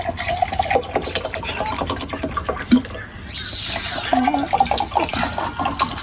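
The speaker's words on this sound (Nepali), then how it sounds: "पानी हालिदिइहाल्छु ल" Water is poured into a container, a rushing fill sound that rises in pitch near the middle, heard close and mixed with household voices talking.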